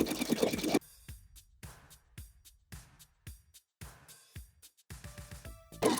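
Sewing machine stitching a 1/2 inch seam around the armhole curve of a shift dress, starting with a back stitch; short bursts of stitching alternate with pauses, close and moderately loud.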